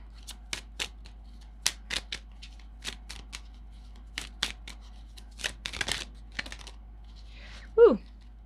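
Tarot cards are shuffled and handled close up, a series of crisp flicking and riffling bursts spaced irregularly across quiet pauses, ending with a brief voiced exclamation.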